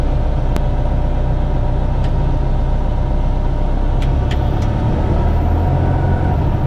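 A small airplane's engine drones steadily and loudly at close range while the plane taxis along runway 27, with a few faint clicks over the constant hum.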